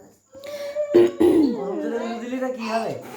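A person coughs two or three times in quick, harsh bursts, mixed in with nearby talking.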